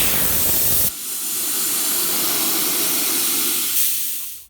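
Air rushes out of a tire valve with the core pulled while the tire is aired down, a loud, steady close hiss that starts abruptly, runs for about three seconds and then cuts off.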